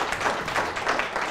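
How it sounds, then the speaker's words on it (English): A burst of audience applause from a live show crowd, dense steady clapping filling the whole short moment, fairly loud and close with no talk over it. "you can give us a round of applause"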